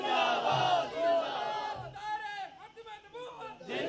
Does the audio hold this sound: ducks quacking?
no